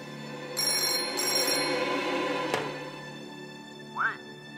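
An old-fashioned telephone bell rings at a railway station in a war-era spy film, two loud ringing bursts close together, followed by a sharp click and a brief squeak in a quiet room.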